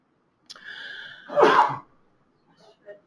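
A single sharp sneeze bursts out near the middle after a brief intake of breath, close and loud, followed by a faint murmur.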